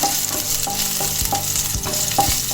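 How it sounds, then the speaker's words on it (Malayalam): Green chillies sauté in hot oil, with a steady crackling sizzle and a spoon stirring and scraping the pan in a regular rhythm. The sound is close and there is no talking. "ഇനി ഇതിലേക്ക് നമുക്ക് എടുത്തു വച്ചിരിക്കുന്ന പച്ചമുളക് ഇട്ട് കൊടുക്കാം"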